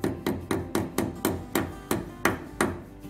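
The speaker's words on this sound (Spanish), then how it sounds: "Para poner el taco, simplemente lo situamos en el agujero y con la ayuda de un martillo" A hammer taps a plastic wall plug into a drilled hole in a wall, with about a dozen sharp, evenly spaced knocks close by at a steady rhythm and no voices.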